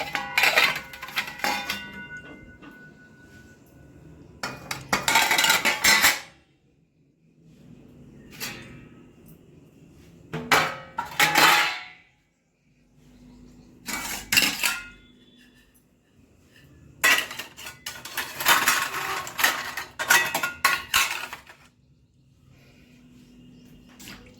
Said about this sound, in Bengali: বাসনগুলো ধুয়ে নিলাম